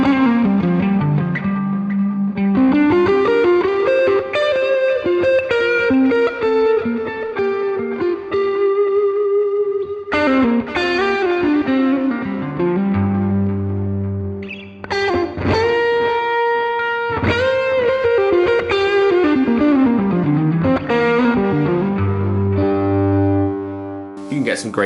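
An electric guitar played through NUX budget effects gear rings out in distorted, effected melodic phrases and sustained chords, loud and continuous with long decaying notes.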